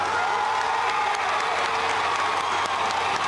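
A street crowd in Caracas applauds and cheers a swearing-in oath, with dense, continuous clapping and scattered whoops that stay loud and near from start to finish.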